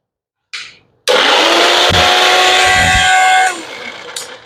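An electric chopper switched on in a kitchen while chopping for stuffed bell peppers, a brief whir first and then a loud steady motor grind with a whining pitch for about two and a half seconds before easing off.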